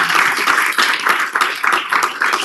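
Audience clapping fills a city council meeting hall, a steady wash of many hands applauding for a couple of seconds with no talk over it.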